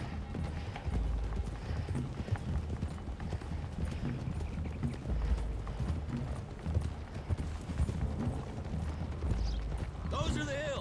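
Horses gallop in Red Dead Redemption 2, a fast, continuous clip-clop of hooves drumming throughout alongside creaking tack, with a voice calling out over the riding near the end.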